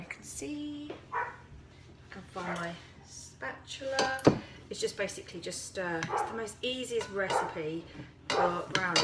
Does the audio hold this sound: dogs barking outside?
yes